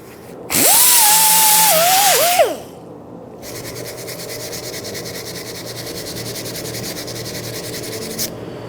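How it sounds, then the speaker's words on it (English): Sanding pad on a power tool scuffing rusted edges of a brake backing plate from a 2009-2011 Ford F-150: a loud whining spin-up that falls off, then a quieter steady abrasive buzz, close up. "I just want to use a little sanding pad and scuff up these edges here, get rid of the lip that has built up"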